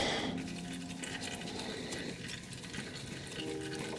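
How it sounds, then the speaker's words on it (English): Engine oil draining out during a DIY oil change makes a steady, close liquid pour and trickle that runs throughout with no pause. "Just put it in there. And let that drain."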